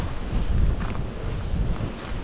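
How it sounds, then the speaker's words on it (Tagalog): Strong wind blows across an island hilltop, buffeting the microphone with a continuous low rumbling roar that swells and eases in gusts, with no voices. "kung hindi lang sana malakas yung hangin, pwede na tayo magpalipad ng drone dito eh"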